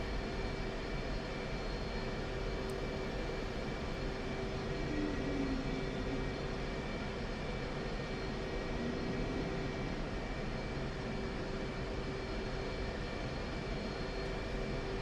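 An F-15E jet taxis in the DCS World flight simulator, its engines holding a steady, even drone with a faint tonal whine underneath, constant and unbroken throughout.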